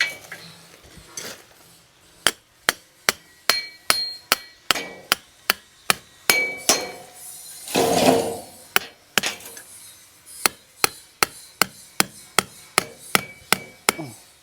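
A wooden peg or stake being hammered into the ground while marking a borewell spot, a long series of sharp, evenly spaced knocks, close and loud, briefly interrupted by a rustling scrape midway.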